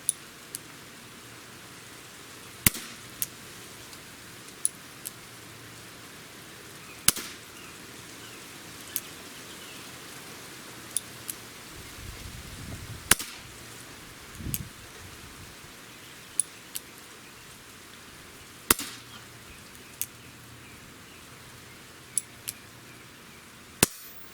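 A Chiappa Rhino 50DS revolver is fired double action at spaced intervals. Each sharp, fairly distant crack stands out against a quiet outdoor background, with about six main shots and a few fainter pops in between.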